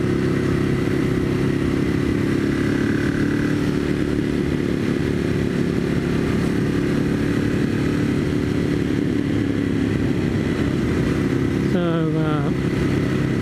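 A Ducati M1100 Evo motorcycle on a ride to Kranji wetland in Singapore drones steadily and loudly throughout, with heavy wind rush and a brief chirping sound near the end.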